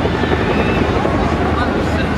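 A Chinook tandem-rotor helicopter at an air show sends out a steady, loud, dense rotor roar throughout, with no distinct breaks.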